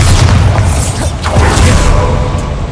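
A Bombarda spell explosion in Hogwarts Legacy, a loud, deep booming blast that rumbles continuously through the short moment with layered bursts and mechanical crackle on top.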